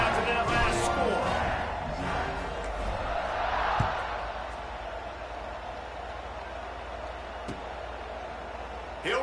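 Stadium crowd in College Football 26 keeps up a steady, dense buzz of murmuring voices and low roar, with a few sharp thumps and impacts popping out above it.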